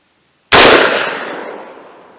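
A single sharp shot from a 10.5 inch AR firing a .223 HELO round through a blast can, a loud sudden crack after a moment of silence, followed by a fading outdoor echo.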